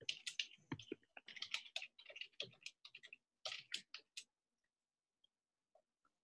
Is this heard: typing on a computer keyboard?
yes